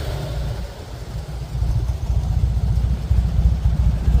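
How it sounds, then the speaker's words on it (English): A vintage Fiat 500 drives through the streets of Modica, its small engine putting out a close, low, steady puttering that grows a little louder toward the end. "So, this is the Fiat 500 driving here in Modica."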